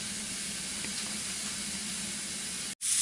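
Ground pork chorizo burgers frying in a sauté pan, giving a steady, close sizzle and hiss throughout that cuts out briefly near the end before resuming.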